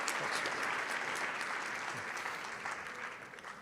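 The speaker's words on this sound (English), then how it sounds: "A round of applause for this great group." Summit audience applauding a panel group, a dense, sustained burst of clapping that slowly tapers over a few seconds, without talk.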